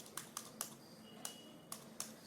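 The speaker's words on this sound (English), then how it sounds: "So here I'll be typing my own text." Typing on a computer keyboard in a quiet room, about eight sharp, evenly spaced key clicks across a couple of seconds, close and alone with no talk.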